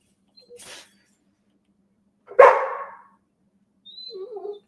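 A dog barks at a hockey game broadcast: a faint yip, then one loud close bark, followed by softer whining yelps, with quiet gaps between them.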